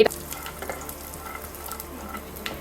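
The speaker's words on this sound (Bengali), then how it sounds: "এখন অল্প তেল দিয়ে বেগুনটাকে আমি একটু পোড়া পোড়া করে ভাজা নিমু" Eggplant frying in a little mustard oil until charred: a low, steady sizzle with faint crackles and a few soft stirring clinks, alone and fairly quiet throughout.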